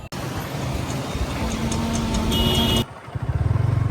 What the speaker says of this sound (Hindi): चलो जल्दी गाड़ी चालू करो, बाइक से जाएंगे।